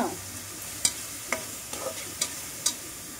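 Tomato pieces frying in a pan, a soft sizzle under a few sharp clicks and scrapes of a stirring spoon, close and brief.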